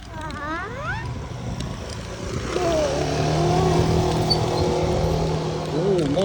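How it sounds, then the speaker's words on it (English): A motorbike passes along a road during an outdoor bike ride, its engine note rising to a louder, sustained drone in the middle before easing off, heard under a child's and an adult's voices. "oh, motorbike."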